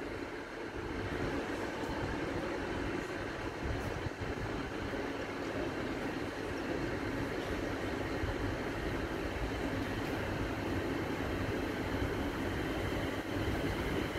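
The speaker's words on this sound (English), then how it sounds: "Oh, that's a passenger train." A passenger train passes through Bletchley station, giving a steady distant rumble and rolling wheel noise that holds throughout, heard outdoors with no talk.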